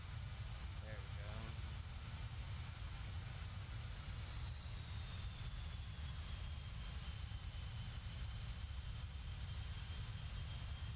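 Jet engines of a BAE 146-300 in a flight simulator hold a steady, faint rumbling drone with a slowly rising whine through the whole stretch.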